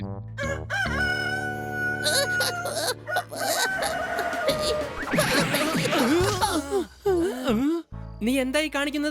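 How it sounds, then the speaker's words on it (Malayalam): A cartoon rooster crows in a Malayalam kids' episode about a boxer rooster, with drawn-out harmonic calls mixed with music and effects throughout. "സോറി, കോഴിയുടെ ശബ്ദം കേട്ടപ്പോ ഞാനങ്ങ് പേടിച്ചു പോയി."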